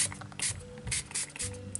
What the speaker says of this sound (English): just randomly spray on the front of the card